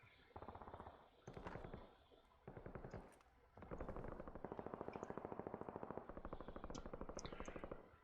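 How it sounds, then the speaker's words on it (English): Heavy automatic gunfire in the shooter game Warzone, with several long rapid bursts that run into sustained, dense firing toward the end, loud and close with sharp echoing pops over them. "Definitely a lot of gunfire going on."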